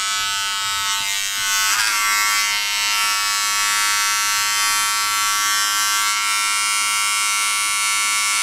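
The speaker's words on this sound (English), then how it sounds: "use my clipper." An electric hair clipper buzzes close and loud, giving a steady high whine with small shifts in pitch as it cuts through a boy's hair, without any talking.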